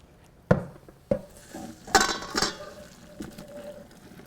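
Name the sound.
straining boiled dumplings in a pot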